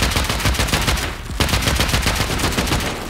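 Rapid automatic gunfire from a video game raid, loud, dense bursts of shots firing continuously with only a brief break in the middle.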